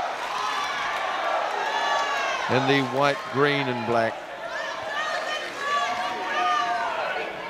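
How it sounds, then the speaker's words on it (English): A boxing crowd in Singapore cheers and shouts for local fighter Muhamad Ridhwan during round two of twelve against Tanzanian Fadhili Majiha, with a steady roar of voices and a brief whooping rise, while a commentator talks over it. "The crowd getting behind their local boy"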